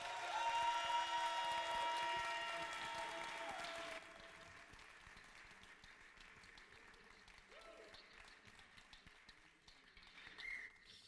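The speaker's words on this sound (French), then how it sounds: "n'hésitez pas à vous exprimer avec des applaudissements" Audience applause at a French final of a song contest for blind and visually impaired performers: loud, even clapping with some whistles for about four seconds, then it fades to a quieter murmur of the hall.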